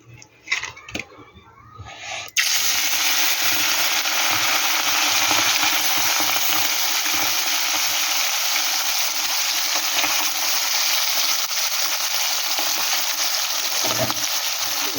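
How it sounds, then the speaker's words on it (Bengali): Mola carplet fish frying in oil in a wok, a loud, steady broadband sizzle that bursts in after a few clattering handling sounds and holds dense and continuous to the end, briefly dipping near the close. "এবার মাছগুলো আমি ভেজে নেব।"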